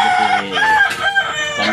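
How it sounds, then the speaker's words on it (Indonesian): Chickens in a coop cluck loudly and close, with a rooster crowing over them in a strained, drawn-out call. "Ini kita lagi ada di kandang ayam"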